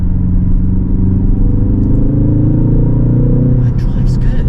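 The engine of a 2023 MK4.5 facelift Ford Focus ST Estate automatic hums as a steady low rumble while driving, with a slight rise in pitch, and people talk over it.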